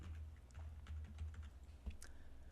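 J, K and L keys tapped on a computer keyboard while editing video in Premiere, a handful of soft, quiet clicks in a loose rhythm against a faint background hum.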